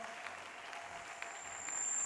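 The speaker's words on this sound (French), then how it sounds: "Applaudis très bien," Church congregation at a mass prayer service applauding, a steady even wash of clapping that swells slightly toward the end, continuous and fairly distant with no clear voices.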